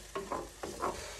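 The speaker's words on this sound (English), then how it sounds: "I'm just going to add the eggs in on the top and smash it all round together" Eggs cooking in a pan, with two quick pairs of scraping stir strokes over a faint, steady sizzle, close and brief.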